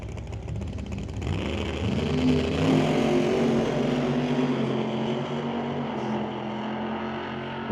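A drag racing car is guided up to the staging beams on the strip and then launches. A low engine rumble builds into a loud, sustained roar that gradually fades toward the end.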